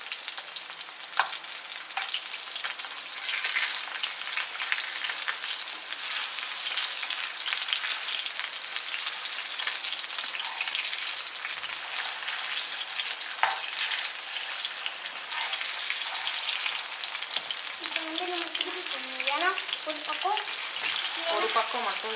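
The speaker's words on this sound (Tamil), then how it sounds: "நம்ம ஃபிஷ்ஷை வந்து இப்போ திருப்பி போட்டுடலாம்." Mackerel fillets sizzle steadily in a hot frying pan, a continuous crackling fry with a few scrapes and clinks as the fish is turned partway through.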